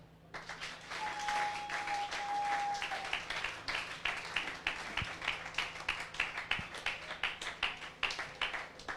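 A church congregation claps along in steady rhythmic applause, many hands beating together in a regular pulse that grows sharper and more distinct toward the end, with a faint sustained tone briefly under the clapping.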